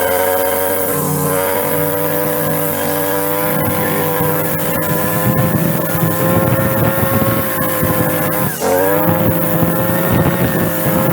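A Stihl string trimmer with its spark arrestor removed runs at steady high revs, a loud, continuous buzzing drone close to the microphone with a brief dip near the end before it picks up again.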